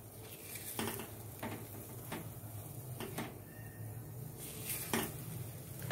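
Kada prasad being stirred in a pan over a low flame, with soft scraping and clinking strokes of the spoon against metal at an unhurried pace, close and fairly quiet over a steady low hum.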